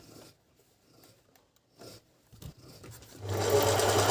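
A Beckmann sewing machine stitching gabardine fabric starts up after a few quiet handling rustles, then runs as a loud, steady, close motor hum with rapid needle clatter.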